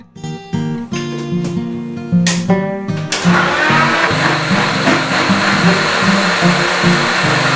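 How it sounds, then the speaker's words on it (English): An electric blender blends pepper and onions for soup: a loud steady motor whir that starts in short pulses and then runs continuously, close by with no talking. "I also need to blend some pepper and onions to give the soup some extra flavor."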